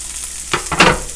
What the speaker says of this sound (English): Just gonna saute these up.